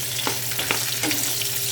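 Diced potatoes fry in a pan for a smoky eggplant bharta, giving a steady, close sizzle with a few soft scrapes and clicks throughout. No one speaks.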